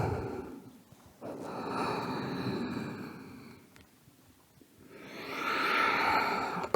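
A person in a slow vinyasa yoga session breathes out audibly while lowering the forehead to the floor in cobra pose, with long, soft, close breaths that swell and fade and no speech.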